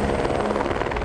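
A helicopter hovers to lift a 2,000-pound horned dinosaur skull bundle out of the field in Alberta, its rotor a loud, steady, close throbbing roar that fills the whole moment.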